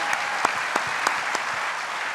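Audience applause at a Moose International convention session, steady dense clapping with a few sharper individual claps standing out, sustained and even for the whole stretch.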